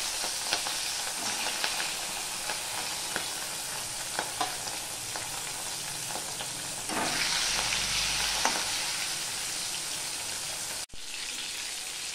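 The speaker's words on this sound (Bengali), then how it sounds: "এবার মাছগুলো ভেজে দেবো, তার জন্য এই গরম তেলে একটু নুন দিয়ে দিলাম আর একটু হলুদ দিয়ে দিলাম।" Fish pieces frying in hot oil seasoned with salt and turmeric, a dense steady sizzle with scattered pops and a louder burst near the middle, heard alone.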